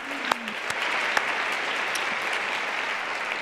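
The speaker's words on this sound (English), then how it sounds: "So let's all give them a round of applause." Audience applause fills a women's summit hall, a steady broadband wash of clapping from a large crowd, moderately loud and sustained, with a few sharper claps standing out near the start.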